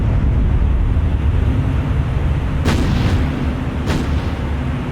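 Battleship main guns firing in a naval video game, two sharp booming blasts a second apart over a constant rumble of sea and wind, with the explosions standing out loudly against the steady background.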